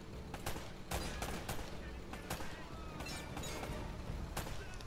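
Enemy gunfire in Uncharted: Drake's Fortune pops in rapid, uneven bursts of sharp shots over a dense, steady combat backdrop, loud and close throughout.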